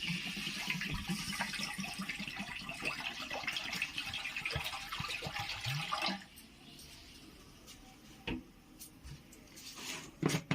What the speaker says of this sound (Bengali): এতে আমি জল দিয়ে দিলাম।